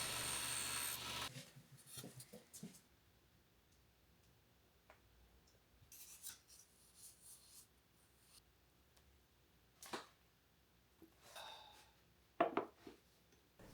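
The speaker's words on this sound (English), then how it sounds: "I mounted balsa wood strips to larger foundation blocks so that I can hold that block as I'm stropping." Knife blade stropped on a balsa wood strip mounted to a hand-held block and loaded with diamond compound, giving faint, scattered rasping strokes and soft ticks, with a few louder scrapes near the end.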